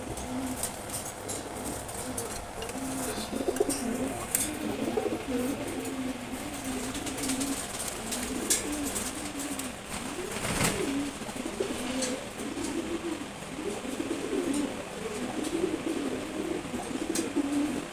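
A pair of Sobji Gorra pigeons, male and female, coo steadily, their low repeated calls rising and falling throughout over faint background noise.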